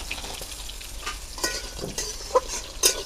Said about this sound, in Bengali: বড়িটা পেঁয়াজের সঙ্গে ভেজে নেবো।